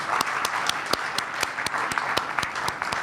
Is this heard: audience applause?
yes